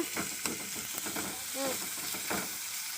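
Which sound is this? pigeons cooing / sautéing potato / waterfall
sautéing potato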